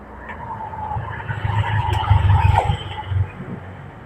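A 2005 Yamaha Jupiter Z CW motorcycle cranks on its electric starter and the engine catches, giving a brief whirring rise into a rough, close idle that fades after a few seconds.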